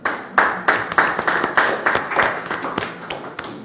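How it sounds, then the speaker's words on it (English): A small audience at a national Olympic committee announcement of its Paris 2024 delegation gives itself a round of clapping. The claps are sparse and uneven, with distinct close hand claps and no talking. "I think we need to give ourselves a clap for doing a job well done"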